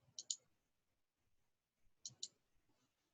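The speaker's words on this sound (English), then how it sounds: "I'm going to click Insert" A computer mouse clicks twice in quick pairs, crisp and close in a quiet room, with a pause between the two double clicks and faint soft movement around them.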